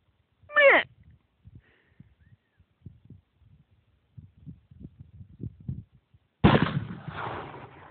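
A single loud rifle shot at a bull elk cracks near the end and rings out with a decaying echo, after a stretch of faint rustling and a brief earlier noise.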